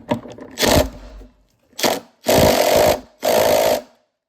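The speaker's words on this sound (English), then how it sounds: "Now tighten the flywheel bolt back on and you're good to go." A power tool drives the flywheel bolt tight on a Stihl BR 600 backpack blower during a short block rebuild, in four loud, close bursts of rattling whir separated by short silences.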